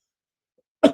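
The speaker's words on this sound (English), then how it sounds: "man, my cough is getting me." A single short cough bursts out near the end after silence, during a podcast recording.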